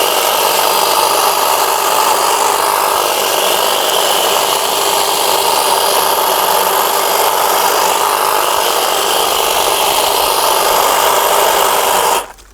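A hedge trimmer on its turbo setting cuts through a garden hedge. It buzzes loud and steady at close range for about twelve seconds, then cuts off abruptly.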